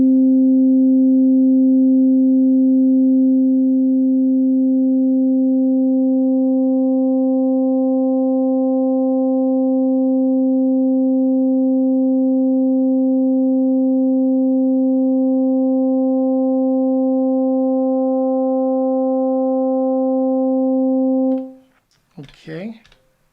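Sustained FM drone from an Elektron Digitone 2 synthesizer with modulation added, holding a steady pure tone with faint upper partials for about twenty seconds, loud and alone, ending in a brief burst of noise.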